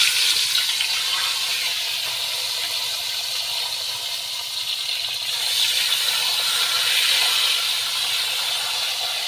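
Dried salted fish (daing) frying in hot cooking oil, a loud continuous sizzle and hiss that stays steady throughout, rising a little in the second half.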